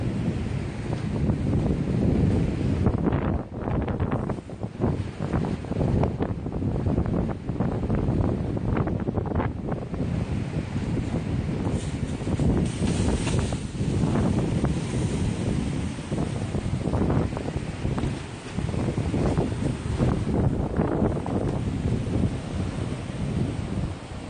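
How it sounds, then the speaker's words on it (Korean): Strong wind gusting at a seaside villa during stormy weather, roaring continuously and loudly into the microphone with a rumbling, surf-like wash and no speech. "바람 굉장히 많이 붑니다."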